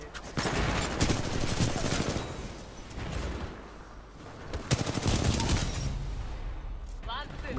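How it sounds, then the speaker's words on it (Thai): Rapid automatic gunfire in Titanfall 2, loud sustained bursts that swell and dip in waves, with someone talking over the shooting. "กูใช้กระสุนฆ่าแม่งเลยเฮีย"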